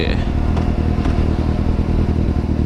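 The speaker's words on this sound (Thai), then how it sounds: "คลิปนี้เป็นคลิปอ่าเขาเรียกว่าขี่ทดสอบฟังเสียงท่อไดโวชุดนี้แล้วกันนะครับ" A black-and-red Kawasaki Z800 motorcycle fitted with a Daivo exhaust rumbles loudly and steadily up close during a test ride, with a voice speaking over the engine.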